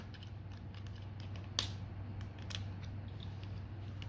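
Plastic doors and an arm on a Transformers Legacy Evolution Armada Universe Megatron toy figure being opened, closed and moved, giving faint creaks and small clicks, with one sharper snap partway through, over a low steady hum.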